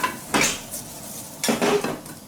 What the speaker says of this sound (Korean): 이제 당근을 다시 이렇게 굽도록 하겠습니다